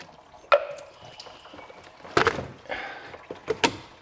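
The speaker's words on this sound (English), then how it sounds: "you can probably still hear our coolant is still draining" Engine coolant drains from a disconnected throttle body hose on a C4 Corvette, heard as sporadic close drips and trickles with a few louder splashes and clunks, no talking.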